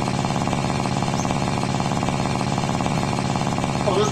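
A car engine in the video game The Long Drive runs with a harsh, rapid buzzing rattle, steady and loud throughout, with a voice faintly heard near the end.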